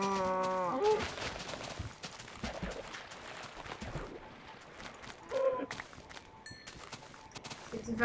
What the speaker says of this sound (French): oh, une vache.